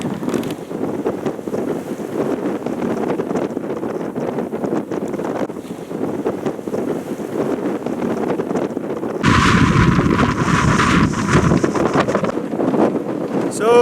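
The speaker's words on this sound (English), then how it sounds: "So this is the wind that I want to be in front of when we came from the mainland to Crete." Strong wind roars without a break across a sailboat making the crossing from the Greek mainland to Crete, buffeting the microphone loudly and swelling into heavier gusts toward the end.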